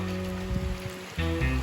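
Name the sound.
rain falling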